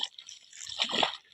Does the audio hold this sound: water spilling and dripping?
yes